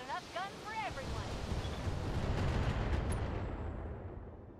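A volley of LRM missiles launches in the BattleTech video game: a dense, rumbling roar that swells and holds for several seconds before trailing off, with a few brief whistling chirps at the start.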